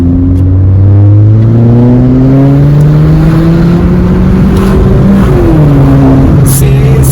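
A Renault Clio 4 GT accelerates hard through its gears, loud and close from inside the cabin, with the engine tone climbing steadily and then dropping sharply at a gear change around five seconds before rising again.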